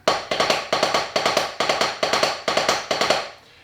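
Taiko drum playing the Don Doko rudiment with alternating right and left hands: crisp, close strikes in repeating three-beat groups, a long stroke followed by two quick ones, cycling evenly about eight times before stopping.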